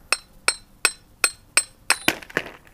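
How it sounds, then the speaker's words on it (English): A hammer taps a shaft on a 4L60E transmission: six evenly spaced sharp metallic strikes, close and ringing, followed by a quicker cluster of clinks. "I'll try tapping it with a hammer here."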